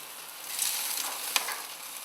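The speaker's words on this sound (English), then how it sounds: "So over onto the hot plate, just for a few seconds, just to seal it" Medium rare steak sears on a hot plate with a steady, close sizzle and frying hiss, plus a brief sharp crackle partway through and no talking.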